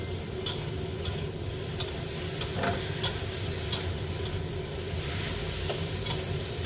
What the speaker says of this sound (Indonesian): saus asam manisnya. Oke, lalu kita aduk rata